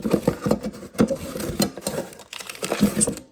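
Loose screws from a Sonnet G5 Jive hard drive bracket box being handled, a quick patter of small metallic clicks and rattles in irregular bursts, close up.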